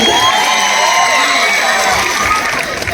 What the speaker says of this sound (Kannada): ಒಂದ್ ಡೈಲಾಗ್ ಹೇಳಿದ್ರೆ ತಾಯಿ ಸೆಂಟಿಮೆಂಟ್ ಹೇಳಿದ್ಬಿಡ ಹೆಂಗ್ ಚಪ್ಪಾಳೆ ಬಿಡ್ತೀವಿ ನೀವು